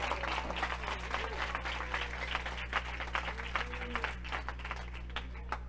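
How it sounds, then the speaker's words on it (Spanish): A church congregation applauds during a Spanish-language sermon, a continuous rattling clapping over a steady low hum, moderately loud and without talk. "Dale un fuerte aplauso al Señor,"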